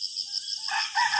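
Chickens on a small Philippine farm make short bird calls, a few brief clucks and a crow-like note, fairly near and alone without talk.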